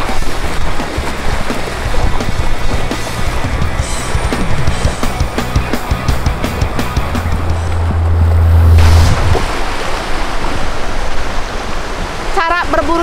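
Ocean waves wash onto a shore at low tide, a continuous broad rushing surf that stays loud and steady throughout.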